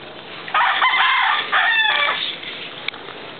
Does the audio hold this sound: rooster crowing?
yes